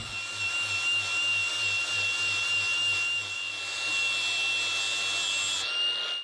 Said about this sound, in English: I'm also going to grind down and remove all of this surface rust here